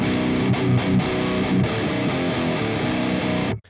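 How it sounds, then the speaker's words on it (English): Electric guitar played through effects, a loud, distorted, sustained chordal sound heard alone, ending with a sudden cutoff. "today I'm going to play a little bit of guitar for you that sounds like this"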